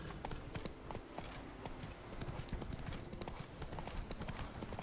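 Roach the horse trots along in Witcher 3: Blood and Wine, a steady clip-clop of hooves repeating in a quick rhythm, fairly quiet under faint game ambience.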